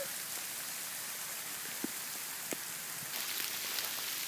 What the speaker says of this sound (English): The ice is pounding me in the face.